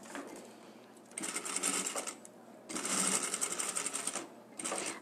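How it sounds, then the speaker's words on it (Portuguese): A sewing machine stitches fabric in three rapid mechanical bursts separated by short pauses, close and clear, with faint handling noise between runs. "Bati uma costurinha, também fechando a lateral"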